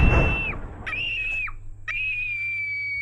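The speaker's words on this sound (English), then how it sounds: "that kid screaming like that" A child screaming in a film scene, three high sustained shrieks with short gaps between them, loud and close, over a low rumbling background.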